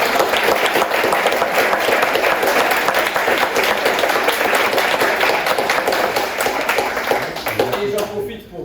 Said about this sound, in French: vous pouvez vous applaudir déjà